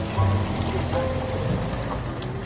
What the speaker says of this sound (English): Oh, and it was still raining.